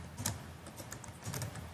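A command is typed on a computer keyboard in brief clusters of soft clicking keystrokes, close and fairly quiet, with no talking.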